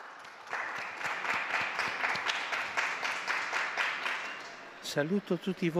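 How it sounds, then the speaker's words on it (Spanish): A crowd in St. Peter's Square applauds steadily for several seconds during the Angelus, dense overlapping claps filling the space, before a single voice starts speaking near the end. "Y un aplauso a todos los abuelos, a todos."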